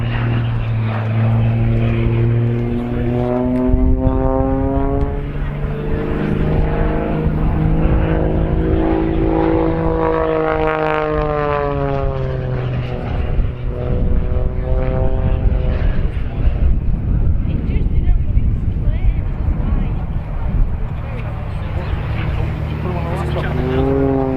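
An Extra aerobatic propeller plane passes loudly at an airshow, its buzzing engine note sweeping up and down in pitch as it flies close by, with a commentator talking over it.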